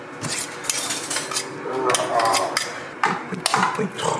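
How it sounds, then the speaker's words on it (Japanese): Thick, smooth corn soup is scraped and poured from a blender back into a cooking pot, with continuous clinking, scraping and sloshing of utensils against metal and glass, fairly close and steady with a few sharper knocks. "これを、またお鍋に移していきますね"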